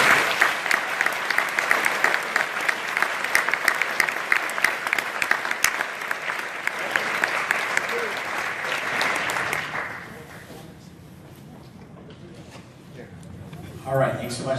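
An audience at a George Mason University alumni awards event gives a big round of applause for three honorees, dense steady clapping for about ten seconds before it fades to a quiet room.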